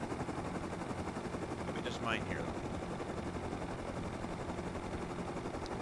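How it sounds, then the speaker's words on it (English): An attack helicopter in the video game Rust drones with a steady, rough rumble and rotor noise, mid-distance and fairly constant, with a brief whistling, rising sound in the middle. "I think I hear another attack chopper."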